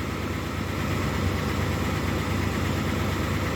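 A 1978 Ford F250 4x4 with a 400ci V8 idles steadily, a continuous dense rumble with no breaks, close and even throughout, with no talking.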